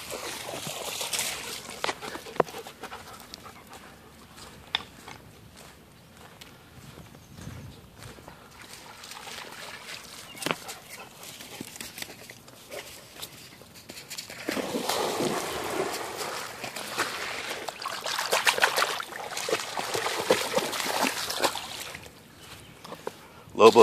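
A dog splashing and wading in a lake in a Minnesota glacial valley, with sloshing and splattering water outdoors, irregular and moderately close, swelling in the middle and later stretches.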